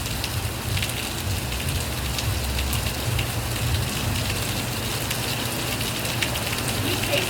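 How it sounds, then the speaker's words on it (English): Steady rain falls on surfaces close by in a dense, even patter during a Caribbean rainstorm, with no voices over it. "this rain is not as salty as the rain in the US."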